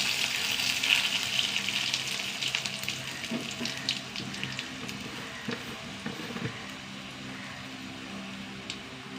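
Cumin, dried red chillies and curry leaves fry in hot oil, giving a steady close crackle with a few sharper pops and stirring clinks, and it eases off slightly toward the end. Nobody speaks.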